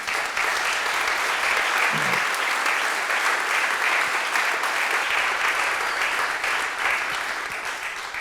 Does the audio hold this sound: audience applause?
yes